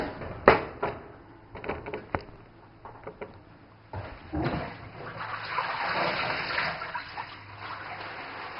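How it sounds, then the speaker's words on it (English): Running water splashing over greens being washed at a sink, starting with a few sharp patters and splashes and then settling into a steady close gush of flowing water. "I'm washing these greens"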